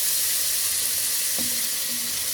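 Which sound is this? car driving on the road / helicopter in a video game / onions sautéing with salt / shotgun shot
onions sautéing with salt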